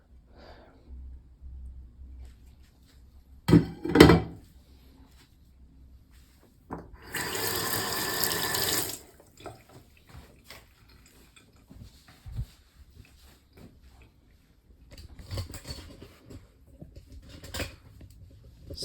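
Hot water poured off a pot of cooked brown rice in a few brief splashing bursts, one longer gush in the middle, with quiet handling clatter between.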